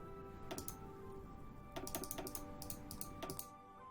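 Soft computer keyboard and mouse clicks come in small clusters: a light key press held down together with a right mouse click, several sharp close taps around a quiet room background, with no talking.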